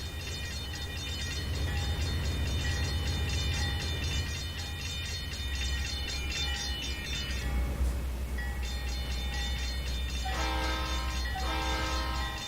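A train in Trainz: A New Era (T:ANE) rumbles steadily along with a low engine drone, its horn sounding in sustained harmonic blasts, then a few shorter horn toots near the end.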